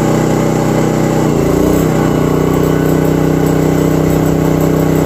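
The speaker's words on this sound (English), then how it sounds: "you'll hear the generator kind of change tone for a second while the compressor kicks on" A 3300-watt dual fuel inverter generator hums loudly nearby, then its engine pitch climbs and settles into a heavier drone as an air compressor kicks on, running steadily afterward.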